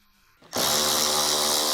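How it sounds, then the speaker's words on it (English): Small electric impact wrench with a 6mm deep socket spinning out the upper door panel retaining screw on a Ford F-150 rear door, a sudden loud steady high whine that starts abruptly and runs on, close and alone. "With the small electric impact wrench, remove the upper door panel retaining screw."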